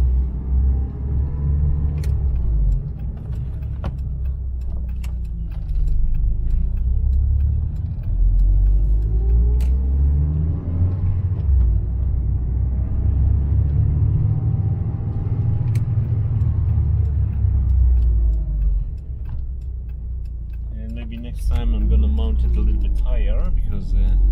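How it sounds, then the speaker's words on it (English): A car's engine rumbles low and close as it drives on a road in Japan, holding a steady drone with gentle rises in pitch under occasional talk, and a brief clatter near the end. "I'm just gonna do a short drive"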